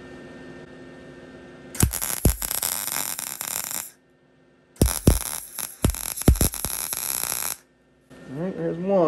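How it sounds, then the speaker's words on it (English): MIG welding fills bolt holes in a thick metal panel of a Jaguar E-Type monocoque, two loud crackling buzzes of about two seconds each separated by a pause, close up, followed by a voice. "So we're gonna weld up this side, then flip it over and weld up the other side."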